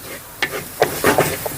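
Ground coriander hits a hot pan for a Thrissur-style fish curry and sizzles in short hissing bursts, mixed with the scrape of stirring.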